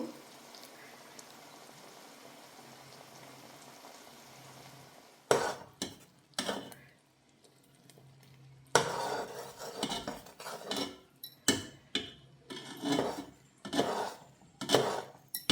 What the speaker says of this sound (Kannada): ಬೆಲ್ಲಕ್ಕೆ ಅರ್ಧ ಗ್ಲಾಸ್ ನೀರು ಹಾಕಿ ಪಾಕ ಬರಲಿಕ್ಕೆ ಇಡಬೇಕು.